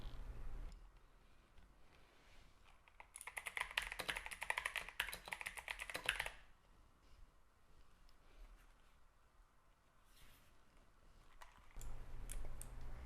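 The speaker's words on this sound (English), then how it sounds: "As you can tell by the loud noise, I chose clicky GX mechanical switches" Fast clacking and clicking comes from typing on a Logitech G715 keyboard with clicky GX mechanical switches. It is loudest in a dense three-second burst in the middle, with faint scattered key taps before and after.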